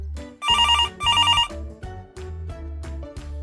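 A telephone rings in a children's online worship service. Two bright, rapid ring bursts sound loud over a thumping, bass-heavy musical beat that keeps pulsing afterwards.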